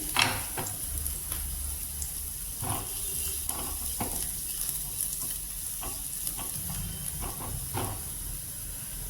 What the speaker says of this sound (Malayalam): ഇപ്പോൾ വെളുത്തുള്ളിയൊക്കെ ഒന്ന് വഴന്ന് വന്നിട്ടുണ്ടെങ്കിൽ